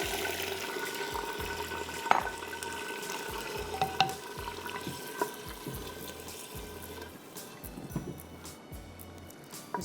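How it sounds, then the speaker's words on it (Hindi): Spinach, fenugreek and purslane stirred and frying in a pan, a soft steady sizzle with a regular series of scraping stirs and occasional clinks, close and alone without talk. "इसको आप भूनेंगे अच्छी तरह।"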